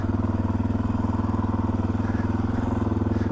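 A small motorcycle carrying a rider and a dog, heard while underway: a steady, throbbing engine drone with a fast regular pulse, close and continuous throughout.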